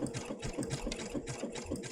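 Sewing machine stitching fabric applique around a leaf shape, a steady rapid mechanical chatter running continuously and close throughout.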